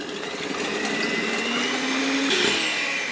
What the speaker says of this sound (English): I'll make a start by whisking the egg whites